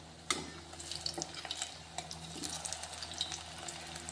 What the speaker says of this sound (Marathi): हे बघा, आपण आता याला उलटून घेऊया